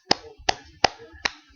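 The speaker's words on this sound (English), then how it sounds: "So I applaud you" Four sharp, separate hand claps, spaced roughly evenly and heard up close with no talking.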